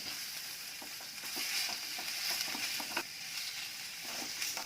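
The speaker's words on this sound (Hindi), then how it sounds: "जिंजर को ज़्यादा लाल नहीं करना, 2-3 मिनट ही इसको भूनना है।" Ginger roasting in a pan over low heat, stirred continuously with a ladle: a steady close sizzle with soft scraping and clinking strokes recurring throughout.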